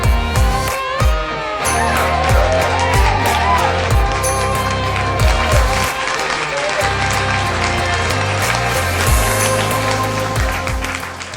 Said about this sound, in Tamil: அவருக்காக ஒரு பெரிய கை தட்டல் கொடுத்துருங்க